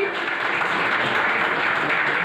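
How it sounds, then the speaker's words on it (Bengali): Audience at a political gathering applauding, a dense, steady wash of clapping from many hands throughout, fairly loud and continuous. "জোরে একটু হাততালিটা দাও।"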